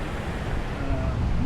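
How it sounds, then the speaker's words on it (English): Ocean waves crash on the shore in a constant loud roar of surf mixed with wind buffeting the microphone, with no clear breaks between waves. "The waves are so loud,"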